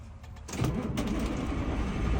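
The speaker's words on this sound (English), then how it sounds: "I'm going to start the engine" A truck's diesel engine cranks and catches during an in-cab pre-trip check, a brief starter whir followed by a low steady idle rumble settling in nearby, with no talking.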